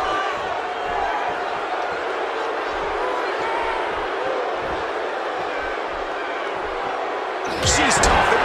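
A wrestling arena crowd in the video game WWE 2K17 sends up a dense, steady roar with rhythmic thumping stomps beneath it. The noise swells louder near the end.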